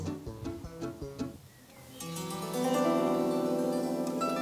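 Gusli, a Russian plucked string instrument, played solo: delicate plucked notes at first, then a bright strummed chord that rings on, close and clear.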